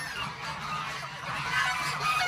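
A domestic goose on a farm honks repeatedly at close range. Its calls come as a loud, continuous, raspy run with no talking over them.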